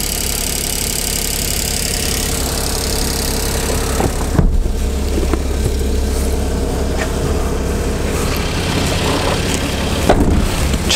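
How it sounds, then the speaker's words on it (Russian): A used car's engine idles at a car market, a steady close mechanical hum with low rumble and a faint rhythmic knock, a couple of brief louder thumps, no talking. "двигатель работает как часики"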